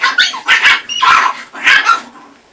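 A chocolate-and-white chihuahua puppy barks four times in quick, high-pitched bursts close by, with no talking over it.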